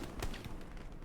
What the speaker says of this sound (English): Explosion in the back, what?